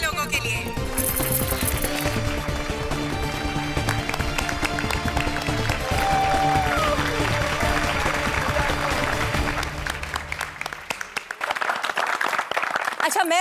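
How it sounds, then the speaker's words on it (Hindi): Applause from the residents of Gokuldham Society, a dense, sustained burst of many hands clapping together with crowd voices, carrying on for several seconds before thinning out and tailing off toward the end. "एक बार जोरदार तालियां हो जाए गोकुलधाम सोसाइटी के लोगों के लिए"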